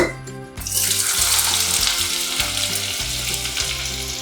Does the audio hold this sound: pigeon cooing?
no